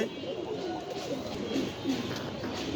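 Black Budapest pigeons at a pigeon farm, soft low cooing repeating in short phrases at close range over a steady background hum.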